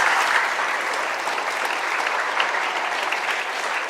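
Audience at a school session applauds the school, a loud, even wash of many hands clapping that carries on steadily for about four seconds.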